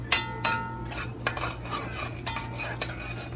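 A spoon scraping and clinking around a pot of sugar for Caribbean stew chicken, several sharp metallic strokes in a steady rhythm over a low hum, close up and without speech.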